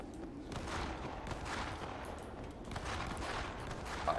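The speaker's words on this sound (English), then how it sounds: "Sounds like those shots came" Sustained gunfire from the World War Z video game, a dense continuous rattle of rapid shots with bursts layered together, steady and fairly loud throughout with no talk over it.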